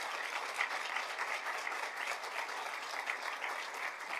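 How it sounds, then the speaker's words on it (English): An audience gives a steady round of applause at a Teacher of the Year ceremony, with dense, even clapping holding at a moderate level throughout and no speech over it. "Let's give one more round of applause for the Building Teachers of the Year."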